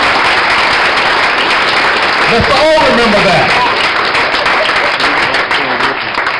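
Audience applause at a town hall meeting in an entertainment venue, loud sustained clapping filling the room while someone speaks over it through a microphone.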